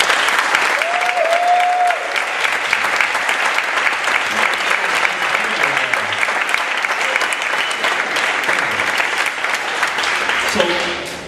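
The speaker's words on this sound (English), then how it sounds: "How about a hand for these guys?" An audience at a 2013 West Chester University masterclass applauds the band with steady, full clapping that holds for several seconds before tapering at the end.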